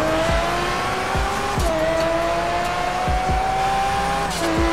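Race cars in a Forza drag race: loud engines revving and shifting up through gears, repeated rising whines broken by sharp gear changes, close and continuous.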